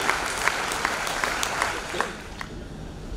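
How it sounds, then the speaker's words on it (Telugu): An audience gives a steady round of applause, dense clapping sustained loudly for a few seconds before easing slightly toward the end. "అందరూ చప్పట్ల కొట్టడం"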